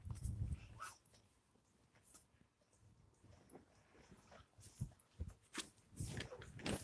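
A dog moving around close by indoors, with soft scuffs, shuffling steps and occasional faint whimpers in scattered bursts, fairly quiet overall.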